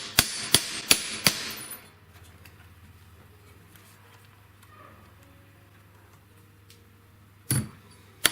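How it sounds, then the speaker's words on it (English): Metal ring wire being hammered flat at a jeweller's bench: four sharp, ringing hammer blows in quick succession, then a long quiet stretch and one more double strike near the end. "what I'm going to do now is just concentrate on flattening out one side so that it becomes thinner and a little bit wider where I'm hammering"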